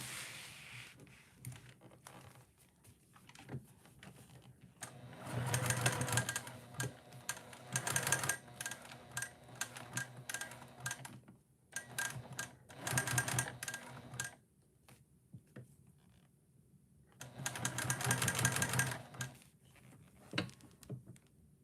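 A sewing machine bastes a fabric heart bag in short bursts of rapid mechanical stitching, separated by quiet pauses. The sound is fairly faint and close, with no speech.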